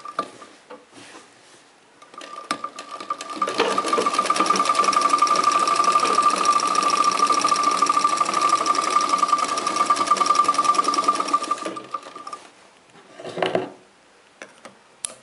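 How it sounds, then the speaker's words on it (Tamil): A sewing machine stitches fabric in a tailoring class, starting with a few short bursts, then running in one long steady whir for about ten seconds before stopping, with a final short burst near the end. "இப்போது வந்து நம்ம கெட்டு தையல் போட்டு தான் ஆரம்பிக்கணும்"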